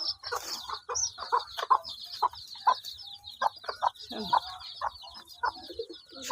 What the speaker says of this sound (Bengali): ছাও অনেকগুলো উঠছে, এই যে খাঁচার ভিতরে রাখছি।